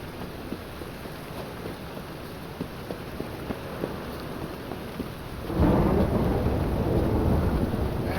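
Steady rain with thunder in the video game The Witcher 3: a constant wash of rainfall with scattered drop taps, then a deep rolling thunder rumble swells in and carries to the end, no voices.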